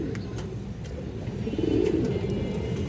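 Low, rolling cooing from a pair of Makra pigeons of the Sarasai line, fairly close, with a steady background hum and a louder burst of cooing midway.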